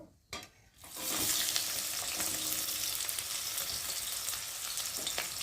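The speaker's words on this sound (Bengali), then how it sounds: "এখন দেব কুচিয়ে রাখা পেঁয়াজগুলো দিয়ে ভালো করে ভেজে নেব" Chopped onions frying in hot oil with a bay leaf, a steady close sizzle that swells after a brief quiet start and runs on continuously with faint stirring scrapes.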